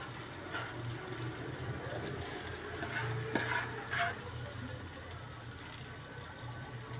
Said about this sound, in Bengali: এখন আমার মেয়ে নুডলসগুলা দিয়ে দিচ্ছে।